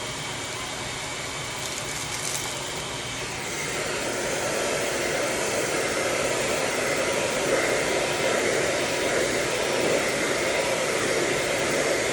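A heat gun warms chameleon neo chrome tint film on a 2005 Toyota Camry headlight, a steady loud blowing roar that swells slightly after the first few seconds and runs unbroken to the end.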